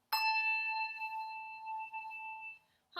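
A handbell is rung with a swinging motion in a music studio session, giving one clear struck tone that rings on steadily for over two seconds before a faint follow-up sound at the end.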